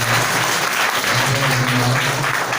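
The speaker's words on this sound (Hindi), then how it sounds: "आपने हमारे बड़े भैया के लिए ताली बजाया।" Audience applause at a school farewell ceremony, steady dense clapping filling the room for the whole stretch, loud and close with a faint tonal hum underneath.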